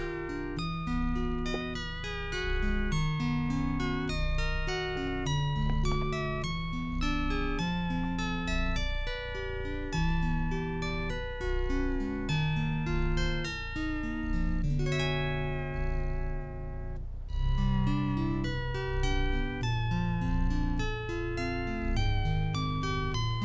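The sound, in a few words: in-game music composed by an algorithm, from the video game Stray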